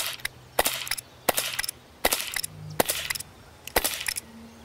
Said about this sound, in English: with shot after shot smacking the target wherever the red dot was pointed